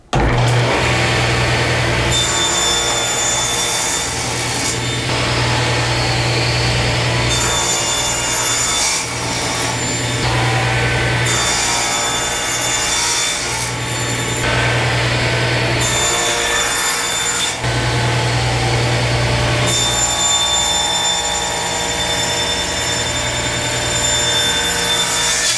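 A power bandsaw cuts a wooden blank for a spool in a workshop, a loud steady motor hum with repeated rasping bursts as the blade bites into the wood, running continuously and close with no talking.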